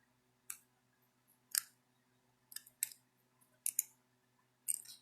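Metal snips crunch through the bottom edge of a thin fold-formed metal piece, giving about six short, sharp cuts with pauses between, close by and fairly quiet.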